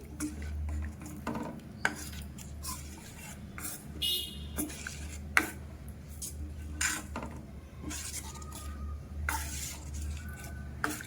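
Ragi flour halwa with jaggery being stirred in a pan, a spoon scraping and clinking against the metal in irregular strokes, with a low hum running steadily underneath.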